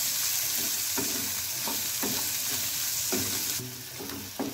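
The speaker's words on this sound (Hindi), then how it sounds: "और ये प्याज है इसको भी बारीक काट लिया था, इसे भी हम साथ में डाल देंगे, और इसे हल्का गोल्डन होने तक फ्राई करेंगे प्याज।" Finely chopped onions frying until light golden for Mumbai pav bhaji, a steady close sizzle with a spoon stirring the pan at a regular, unhurried rhythm.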